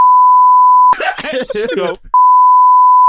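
A steady censor bleep tone sounds for about a second, breaks for a burst of a voice, then returns and holds to the end.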